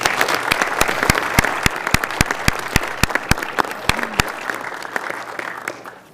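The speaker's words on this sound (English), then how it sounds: "So please, let's give them a round of applause." A county commissioners meeting audience applauds, with distinct, sharp individual claps that keep a fairly regular rhythm over a quieter room background and thin out slightly toward the end.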